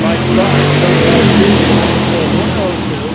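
A Chevrolet Malibu wagon launches at a drag race at the NHRA Hot Rod Reunion, its engine revving loud and rough in a continuous, close roar that eases slightly toward the end.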